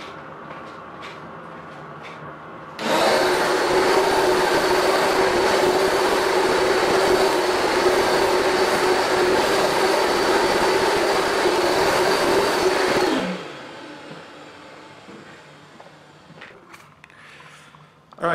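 Carpet cleaner, either a Rug Doctor Mighty Pro X3 or a Bissell DeepClean ProHeat, making a cleaning pass on carpet: a loud, steady motor and suction roar that starts abruptly, runs about ten seconds, then cuts off and winds down.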